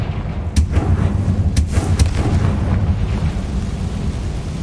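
Confringo fire spell blasts in the Hogwarts Legacy video game, a few sharp cracks over a deep, rumbling low roar that continues throughout, loud and close.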